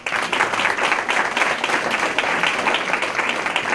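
A crowd applauds steadily at an outdoor recognition celebration, many hands clapping in a dense, continuous patter that holds at an even loudness throughout.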